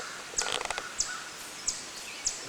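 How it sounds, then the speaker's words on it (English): A few short, high bird chirps repeat at even intervals over a quiet yard on a summer morning, with some faint fluttering noise early on. "A few birds singing."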